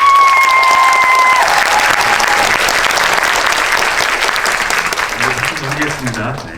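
Audience applause at a film talk event after a screening, a dense clapping crowd that starts loud and slowly thins out, with a voice briefly heard over it near the start.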